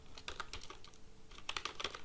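Fingers type code on a computer keyboard in quick, uneven bursts of soft clicks, close but quiet, with a short pause in the middle and no talking.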